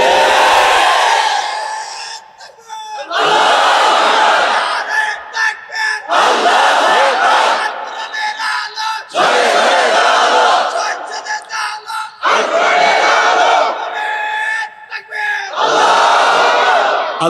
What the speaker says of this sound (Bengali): যদি স্লোগান তাকে দিতেই হয় আল্লাহর বরত্ব ঘোষণা করে আল্লাহু আকবারের স্লোগান দিবে